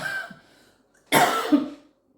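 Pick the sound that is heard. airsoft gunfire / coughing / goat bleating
coughing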